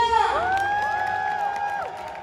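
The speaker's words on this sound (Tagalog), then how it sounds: "We'll give their loudest clap and cheer." Wedding guests cheering with loud, rising whoops and shouts, light clapping mixed faintly underneath as the cry holds and then tails off.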